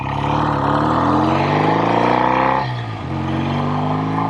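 A 1965 BSA 650 Thunderbolt motorcycle engine growls while being ridden, a loud close rumble climbing in pitch through a gear, dipping briefly at a shift, then pulling again.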